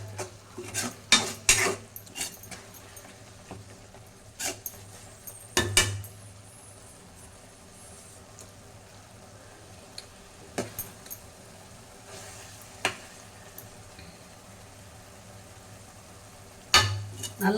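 Prawns sautéing with tomato and onion in a pan with no water added, stirred with a utensil; intermittent clinks and scrapes of metal on the pan come in scattered bursts over a low, steady background hum.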